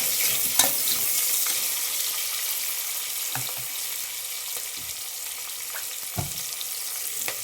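Onions and green chillies frying in oil for a pulao, giving a steady hiss of sizzling throughout with a few brief clatters of stirring, close by and with no talking.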